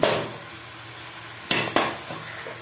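A spoon mashes tomato in a frying pan over a steady sizzle, with two sharp metallic scrapes against the pan close together partway through.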